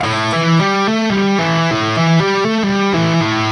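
A distorted electric guitar plays a quick three-notes-per-string pentatonic lick of single notes stepping up and down, steady and loud, with no voices.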